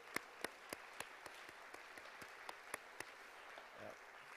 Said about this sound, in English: Get a round of applause here.